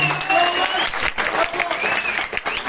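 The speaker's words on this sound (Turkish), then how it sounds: "Tekrar bir alkış hepsine veriyorum." Loud, dense applause from an audience cheering quiz contestants at a knowledge competition, steady and close for the whole stretch, with voices talking over it.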